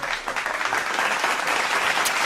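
Applause at a live quiz event in Hinckley, a steady dense clapping from a group that carries through without talk.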